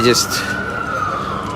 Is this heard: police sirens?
yes